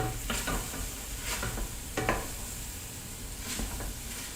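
A big Italian wooden spoon works through a pot of stew, a soft simmering sizzle punctuated by several knocking scrapes against the pot at irregular moments, close and moderately loud.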